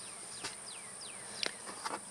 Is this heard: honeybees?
yes